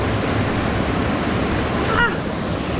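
A mountain waterfall pours in a steady, broad rushing hiss, loud and unbroken, with a brief faint squeak near the end.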